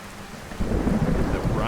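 Rain and thunder in Skyrim, a steady hiss of falling rain broken by a deep rolling thunder rumble that kicks in partway through and carries on.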